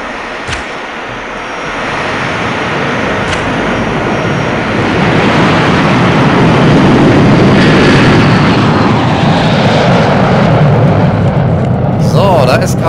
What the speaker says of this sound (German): da ist gerade ein Flugzeug gestartet